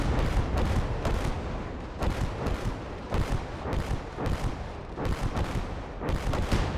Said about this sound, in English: Rocket artillery again?